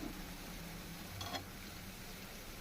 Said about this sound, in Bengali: আরও একটু সময় নিয়ে এটা লাল লাল করে একটু ভেজে নিতে হবে